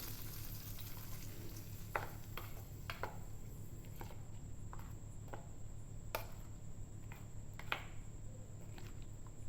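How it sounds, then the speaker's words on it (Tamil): Onions frying in a pan for an easy onion chutney, a steady low sizzle with scattered soft crackles and occasional stirring taps, close and continuous with no talking. "பாருங்கள் எப்படி பொரியுதுன்னு"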